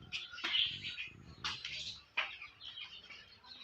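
Small caged parrots give sporadic, faint chirps and short calls, a few sharp peeps spaced across a quiet background.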